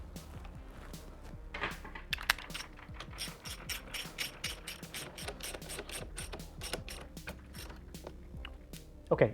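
A ratchet wrench tightening a bolt on Honda Grom (MSX125) motorcycle crash bars, a fast run of close, crisp ratcheting clicks that repeats steadily for several seconds.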